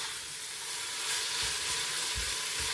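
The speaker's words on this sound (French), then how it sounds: "bien faire revenir des oignons dans l'huile" Onions sizzle and fry steadily in hot oil in a pan, a dense continuous crackle with a few louder pops near the end.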